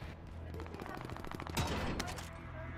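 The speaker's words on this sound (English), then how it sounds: "Still getting shot at from bioweapons, I believe" Rapid bursts of gunfire from bioweapon enemies in a video game crackle continuously, dense and fairly close, with an overlapping voice at times.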